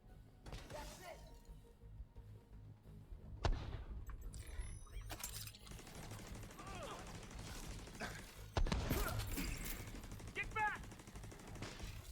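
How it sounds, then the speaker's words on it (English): An automated turret fires in The Division 2 video game: rapid gunfire bursts and mechanical clatter run under steady game noise, with a couple of louder impacts. "Trying to let the turret get some damage in."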